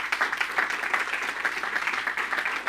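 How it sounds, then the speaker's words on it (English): An audience applauds at a conference gathering, a steady, dense clapping that carries on evenly without a break and is heard on its own. "Can we have another big round of applause"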